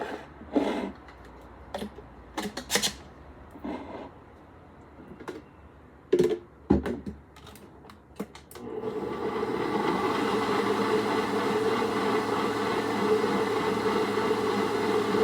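Blender running steadily, blending sea moss: after several brief clicks and knocks, a loud continuous whirring motor drone starts and holds to the end, close by with no talk over it.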